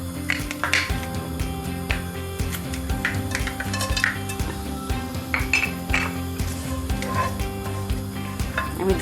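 Whole spices — cinnamon, cardamom and bay leaves — crackle in hot oil in a pot before beef tripe is added, with steady clinks and scrapes of a metal spoon against the pot throughout.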